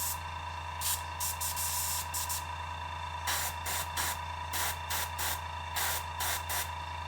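An airbrush sprays Pro Acryl black primer onto a model at 40 PSI in repeated short hissing bursts over a constant low compressor hum, with brief gaps between each pass.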